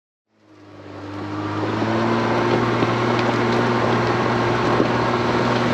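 Engine of an ex-military Volvo C304 6x6 truck fading in and settling into a steady, loud idle with a low rumbling hum, heard alone on a mountainside.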